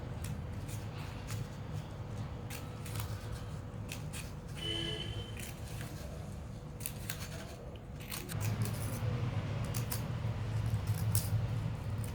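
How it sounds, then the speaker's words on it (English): Scissors cut paper leaves for a school craft in a long run of quick crisp snips, close and steady over a low background hum. "Now we are going to cut the leaves like this."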